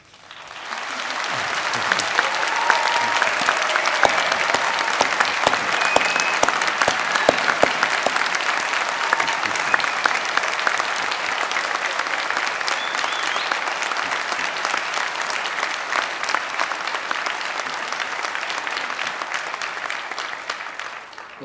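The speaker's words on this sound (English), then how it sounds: "let's give them a round of applause" An audience at a university degree ceremony in Harrogate applauds the graduates, a large sustained round of clapping that swells quickly, holds steady for about twenty seconds and then fades.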